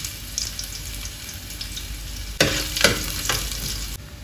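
Garlic drops into hot oil in a pan while cooking fried rice, giving a soft background hiss that jumps to a louder crackling sizzle partway through, then eases back.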